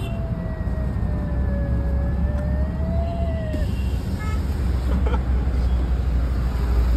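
An ambulance's wailing siren rises and falls a short way off over steady traffic rumble, fading out midway through.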